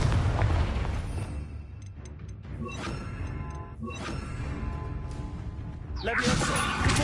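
Bombarda and Confringo spell explosions in Hogwarts Legacy: booming blasts and crashing bursts amid ongoing combat noise, with a louder eruption near the end and a voice shouting over the action.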